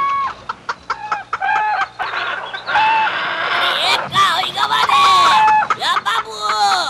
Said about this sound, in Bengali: এই যে মুরগি পালন কেন্দ্র।